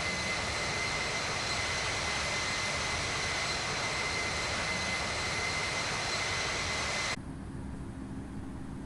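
A KLM Boeing 737 in the Infinite Flight game accelerates on takeoff, with a loud, steady jet engine roar holding for about seven seconds before it drops abruptly to a quieter, thinner hum.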